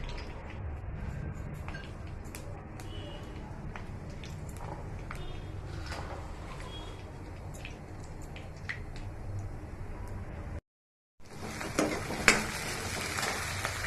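Onions with cloves, cardamom, cinnamon and cumin frying in oil for a kachii tomato curry, a steady close sizzle running throughout with small crackles, a brief dropout near the end, then sizzling resumes.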